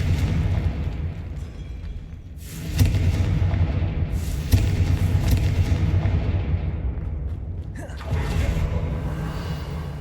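Confringo blasting spell explosions in Hogwarts Legacy, several loud booming bursts with rumbling decay set against an ongoing low game ambience, one blast landing around the middle and another near the end.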